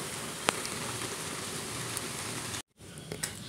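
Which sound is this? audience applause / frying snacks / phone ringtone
frying snacks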